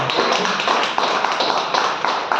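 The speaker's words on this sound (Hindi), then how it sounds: "इसके लिए एक बार जोरदार ताली" Audience applause honoring a product's creator at a lifestyle seminar: dense, steady clapping from many hands fills the whole stretch at close range, with no talk over it.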